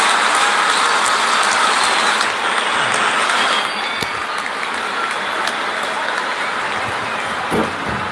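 Crowd cheering in the cricket video game Real Cricket IPL 2026 as the openers walk out, a loud sustained roar that eases slightly partway through, with a few sharp clicks over it.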